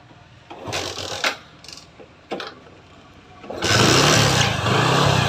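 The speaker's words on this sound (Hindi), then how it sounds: "ये देखो बाइक स्टार्ट भी बहुत जल्दी हो गया" A motorcycle engine, freshly rebored after repeated engine repairs, turns over with a few clattering bursts, then catches quickly and settles into a loud, steady running roar close by.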